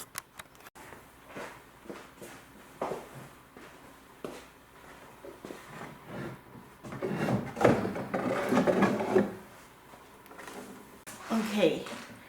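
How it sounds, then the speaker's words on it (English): A wooden door is worked loose and lifted out of an old pump organ, giving soft knocks, scrapes and rattles of wood that grow busier toward the middle, with quiet talk around them. "Then we can take out this beautiful door."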